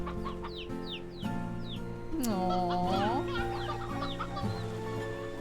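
Chickens cluck and chirp in Slime Rancher 2, several short calls overlapping with game music, close and moderately loud, with a brief voice reacting.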